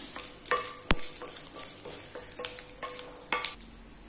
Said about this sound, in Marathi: हे सगळं जरा डाळीचा रंग बदलेपर्यंत परतून घ्यायचे